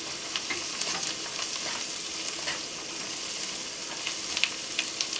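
Chopped garlic and onions frying in a pan for spicy shrimp scampi, a steady close hiss of sizzling oil throughout with faint occasional pops and scrapes, no talking.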